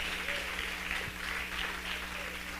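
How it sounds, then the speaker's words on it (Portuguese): A church congregation applauds in a steady, moderately distant wash of clapping, continuous through the short stretch, with a low hum underneath. "Você pode aplaudir forte o nome de Deus"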